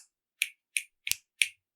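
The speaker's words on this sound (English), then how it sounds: "I can't actually snap that loud." Four crisp finger snaps land one after another at a steady, slightly quickening pace, close and clear against near silence with no voices.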